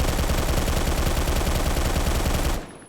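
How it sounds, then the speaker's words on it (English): The LED6 LSW light machine gun in Phantom Forces fires a steady, rapid automatic stream of close, loud shots for over two seconds, then cuts off sharply. "The LED6 LSW, they changed it, so now I'm gonna have to listen to whatever this is when I use"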